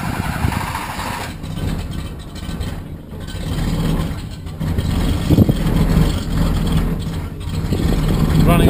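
A Daihatsu Midget K-truck with a 660cc three-cylinder engine idles roughly and unevenly, as if on one cylinder, a steady low rumble close by with some talk over it.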